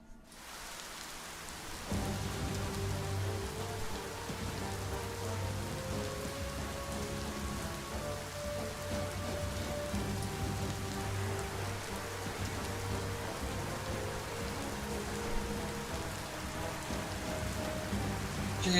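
Steady rain pours in the video game Biomutant, a dense, even hiss of drops hitting surfaces with a low rumble beneath, holding at a constant level for the whole stretch after a brief quieter start.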